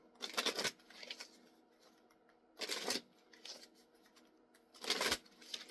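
Tarot cards are shuffled in three short riffling bursts, each about half a second, separated by quieter handling sounds, close and soft.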